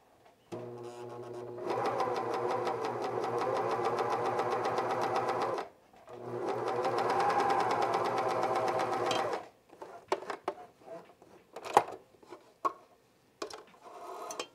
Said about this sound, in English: get it going before we throw it through the binding machine